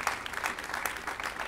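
Continuous audience applause for a trombonist at an outdoor jazz concert in Preganziol, many hands clapping evenly at a moderate level, with no talking over it.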